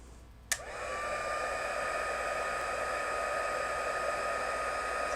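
A heat tool switches on with a click and then blows a steady, loud rush of hot air onto a ribbon bow, sustained without a break.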